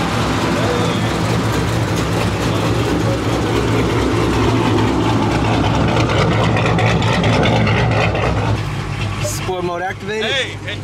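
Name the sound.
Dodge Hellcat car engine idling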